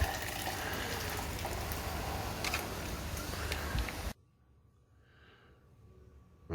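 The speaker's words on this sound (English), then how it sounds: "Now another rinse of hot water." Hot water poured over gold powder to rinse it during refining, a steady splashing pour that stops abruptly, followed by faint quiet.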